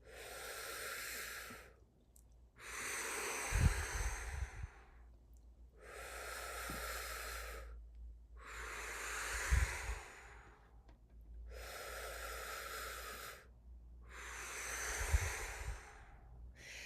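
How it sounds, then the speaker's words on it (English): A singer takes slow, deep breaths during a voice lesson exercise, four or five long airy inhalations and exhalations spaced evenly, close and fairly quiet, with faint low thumps between them. "Try that. Breathing in."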